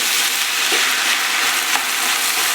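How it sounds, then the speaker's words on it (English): Goulash ingredients sauté in nut brown butter, a steady close sizzle and frying hiss with occasional scrape of stirring across the pan, continuous with no talk. "So we're sauteing this in the nut brown butter now for about 3 minutes"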